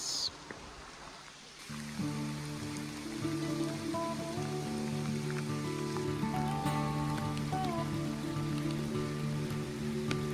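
Steady rush of falling rain mixed with flowing water, a dense continuous wash of noise that stays even throughout with no voices.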